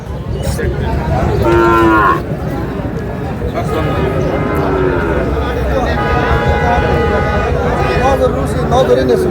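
Cattle moo loudly up close at a cattle market, one long low call followed by more lowing amid a busy crowd of talking people.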